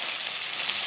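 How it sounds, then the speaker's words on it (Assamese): A paste of black pepper and whole chillies fries over medium heat in a pan, giving a steady, close, continuous sizzle with no pauses or talk, for a Singhi fish and potato curry. "এতিয়া এইখিনি মিডিয়াম হিটত ফ্ৰাই কৰি ল'ব"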